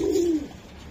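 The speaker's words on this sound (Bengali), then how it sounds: "এই যে দেখেন কবুতরটা" A pigeon gives a single close, soft coo that fades away within half a second.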